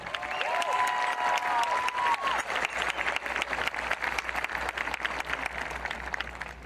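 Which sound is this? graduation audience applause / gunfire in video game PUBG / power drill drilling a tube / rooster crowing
graduation audience applause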